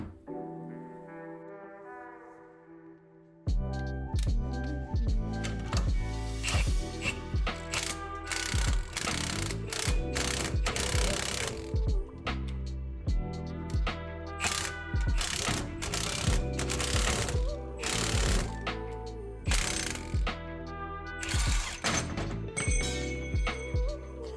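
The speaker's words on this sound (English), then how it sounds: "We're going to put our ball joint presser on this and just see what happens" A ball joint press forces a ball joint out of a lower control arm for an AE86/KE70/TE72/240sx camber build, heard as a loud, close run of rapid mechanical ratcheting and clanking that starts abruptly after a quiet, humming few seconds.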